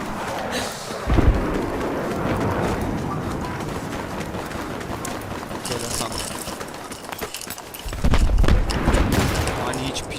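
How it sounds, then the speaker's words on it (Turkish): Explosions from a bomb in the Battlefield 3 multiplayer game, two heavy booming blasts, one early and one later, standing out over constant gunfire and battle noise while a voice talks. "O bomba nereden geldi? Aha Amerikan bombası."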